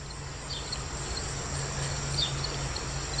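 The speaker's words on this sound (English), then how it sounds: "my cup plant down here is buzzing with activity this morning." Bees working cup plant flowers in a garden on a summer morning, a soft continuous outdoor hum mixed with insect chirring and faint distant bird notes, low and steady with no talking.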